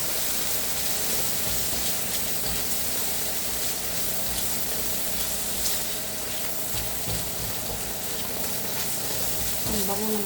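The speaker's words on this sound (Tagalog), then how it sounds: "So, luto-lutuin muna natin yung bawang natin at sibuyas." Garlic and onion sauté in a pan for bistek Tagalog, a dense, even sizzle that runs throughout with light stirring and scraping mixed in.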